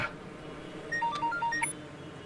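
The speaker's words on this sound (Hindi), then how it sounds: "ओ यार, ये किसका फोन आ गया?" A phone rings with a short electronic ringtone, a few quick tonal beeps in a brief melodic pattern over a low background hum, moderately quiet and without talk.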